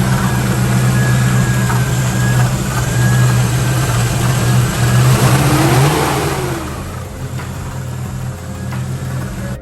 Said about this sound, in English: I'm gonna throw a clip of the engine running.